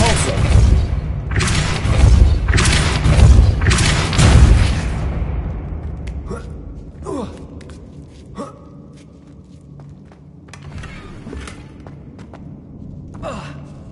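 The Depulso force spell cast in Hogwarts Legacy lands as a run of loud, heavy whooshing booms over several seconds, then fades into quieter magical chimes and scattered clicks.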